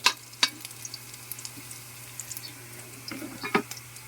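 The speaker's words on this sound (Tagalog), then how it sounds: "Gisahin lang natin itong luya hanggang lumabas yung kanyang aroma" Ginger sautéing in a hot pan gives a soft, continuous sizzle with scattered crackles and pops, close but fairly quiet, with a low steady hum beneath.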